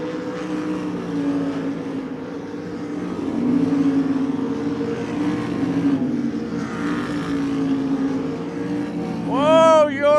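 Race cars on the Devil's Bowl Speedway dirt track drone steadily through a continuous engine roar, rising slightly midway, with a loud rising whine near the end as a car passes close; a voice talks briefly over the noise.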